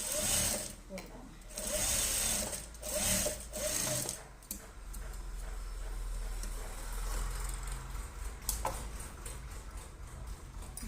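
A sewing machine stitches a blouse seam in short bursts of rapid whirring and ticking, separated by pauses. A voice talks quietly over it.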